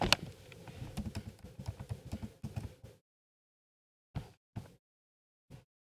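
A computer keyboard is typed on rapidly for about three seconds during a classroom PowerPoint activity. After a pause of silence, a few isolated keystrokes follow, close and clear.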